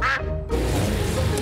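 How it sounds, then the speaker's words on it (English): Cartoon ducks quacking in an animated children's show, a few loud, nasal quacks up close with a brief gap early on, no talk. "Hello, Ducks."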